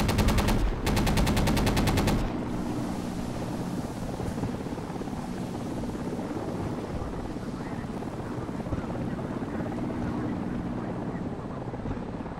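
Close air support gunfire in the Project Reality video game: a short, dense, rattling burst over the steady roar of a helicopter. The rotor drone carries on loud and unbroken after the firing stops.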